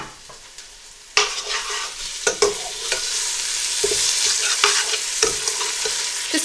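Onions frying in a pan with garlic and ginger just added for Punjabi aloo gobhi: a quiet lull, then a loud burst of steady sizzling that carries on throughout, broken by scraping spatula strokes as the mixture is stirred.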